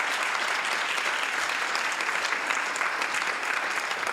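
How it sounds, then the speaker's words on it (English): Audience at a city council meeting gives a big round of applause, steady and dense, many hands clapping continuously at moderate loudness without pause. "let's give everybody a big round of applause"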